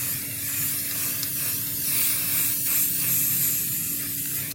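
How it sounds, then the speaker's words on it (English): Lacquer spray paint hisses from a can onto an aluminium-foil-decorated jewellery box in one continuous, close, steady spray lasting several seconds, under a low background hum. "Now I'm going to spray paint it with lacquer spray."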